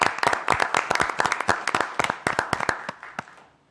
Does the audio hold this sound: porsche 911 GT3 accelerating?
no